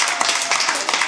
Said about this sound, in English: Clap if you have kids.